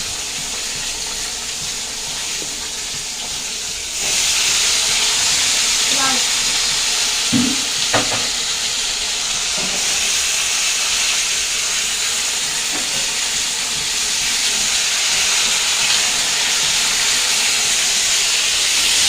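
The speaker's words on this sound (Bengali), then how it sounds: "সিম আলুটা ভাজতে দিয়েছি" Flat beans and potatoes sizzle in hot oil tempered with cumin seeds, a loud, steady frying hiss close by with a few brief clinks and scrapes in the middle.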